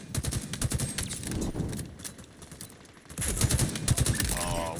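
Rapid weapon fire from a Needler in a Halo Infinite ranked Capture the Flag match, a dense crackling burst that fades briefly, then resumes loudly, with a player talking over it.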